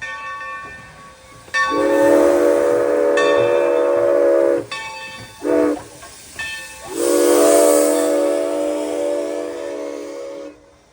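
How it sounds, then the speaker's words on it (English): A steam locomotive whistle on the Valley Railroad in Connecticut sounds in several long, loud chime blasts with short breaks and a brief toot between them, over a steady background hiss of steam. "that's definitely my favorite whistle of the steam engines"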